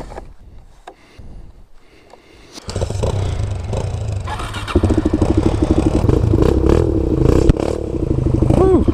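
A Suzuki DR-Z400 dirt bike on a trail-clearing ride fires up after quiet clatter, then holds a loud, close, rough engine note that rises and revs through the rest of the stretch.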